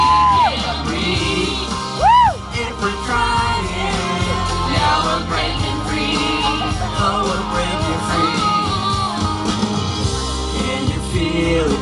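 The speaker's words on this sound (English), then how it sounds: "Look at the crowd." A crowd cheering and shouting, with whoops and yells rising over a busy, loud musical backdrop, continuous throughout with a few sharp rising shouts.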